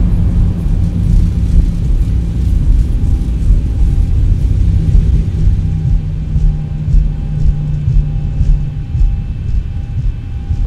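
A simulated Boeing 737 in X-Plane 11 rolls down the runway under manual braking after thrust reversers are stowed, giving a steady, loud low engine rumble and airflow roar with a faint whine that eases slightly as it slows.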